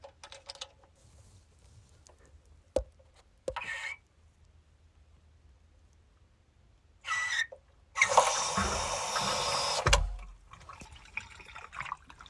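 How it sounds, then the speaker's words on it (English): Water gushes loudly from a water heater's temperature and pressure relief valve for about two seconds after a few short splashes and clicks, then cuts off, leaving quiet background. "You should hear the water coming out."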